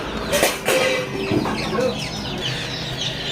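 Tiger breed chickens cluck in a farm poultry house, a few short clucks close by over a busy background of other birds, with a faint voice in places.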